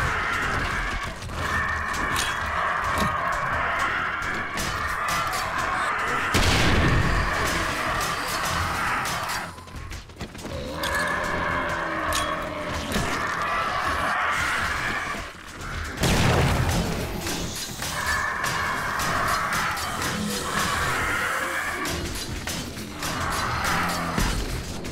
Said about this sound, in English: let's just keep the explosions coming